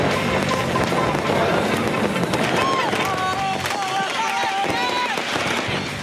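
Fireworks and firecrackers going off in a crowded square in Libya, with a constant dense crowd roar, people's voices, whistling tones and scattered sharp cracks throughout.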